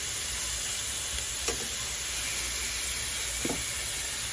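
Chicken pieces fry skin side down in a pan, giving a steady, even sizzle and hiss of hot fat, close and continuous, with a couple of brief soft clinks.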